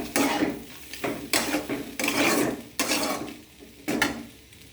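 Chow mein noodles being tossed and mixed with vegetables in a pan, with repeated scraping and clattering strokes of a spatula against the metal in bursts, close and moderately loud, with no voices.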